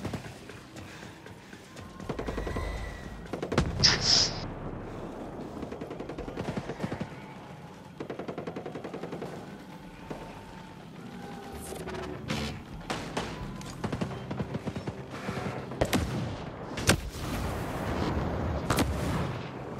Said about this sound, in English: Mortar's coming in.